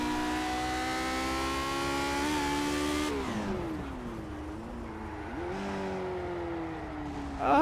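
A Lotus 49 race car engine in Project Cars screams at high, steady revs, then drops sharply as the car bogs down and hunts through low revs before climbing again, loud and alone with no talk.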